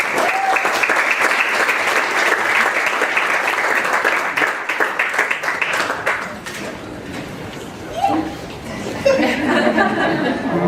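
Sustained audience applause fills the room at a Reunification Day 2023 ceremony, dense clapping holding steady for about six seconds before thinning into scattered claps and a few chuckles.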